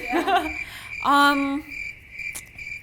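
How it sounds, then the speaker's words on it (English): Cricket sound effect inserted as a comedic pause: a rapid, steady chirping trill repeating through the gap, with a short voice-like tone and a faint click in between. "Insert the cricket sound effects."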